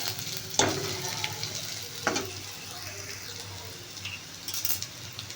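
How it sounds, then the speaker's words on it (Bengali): Chopped garlic and ginger hit a hot wok and sizzle steadily at moderate volume, with a couple of sharp utensil scrapes and light stirring clinks over the continuous frying hiss. "রসুন আর আদা কুচি দিলাম।"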